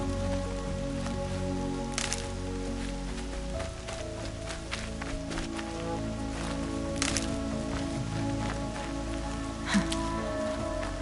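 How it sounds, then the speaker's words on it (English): Steady rain hisses throughout the video game Horizon Zero Dawn, a constant wash beneath sustained background music, with a few faint taps and rustles. "Rain's not so bad."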